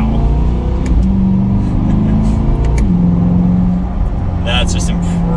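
A 2020 Chevrolet Corvette Stingray 3LT pulls hard back up to speed, its engine note climbing and then dropping sharply with each quick gear shift, loud and close throughout.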